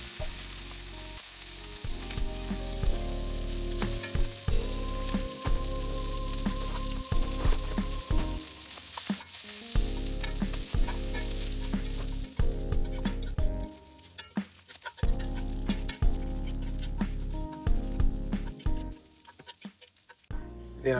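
Chopped brisket sizzles in a cast iron skillet as its fat melts. A steady frying hiss is broken by repeated scrapes and clanks of stirring, all over a deep constant hum.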